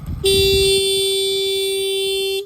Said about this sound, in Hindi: अब हॉर्न सुन लो,